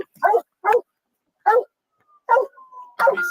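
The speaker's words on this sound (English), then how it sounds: "Doggy's all excited. He want to play." Excited police dog giving a run of short barks and yips with a thin high whimper between them, close and loud, in quick bursts separated by brief pauses.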